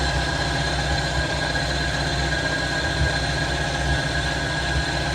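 An MK3 Volkswagen Jetta's carburetor engine idles steadily, a loud, even low rumble with a faint rhythmic knock and steady hum, no other sounds over it.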